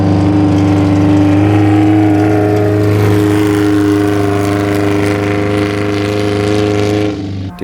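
A Subaru-sponsored Bug race car at the Mint 400 off-road race, near the pits, its engine droning loudly with a steady rev that holds and then fades as it passes.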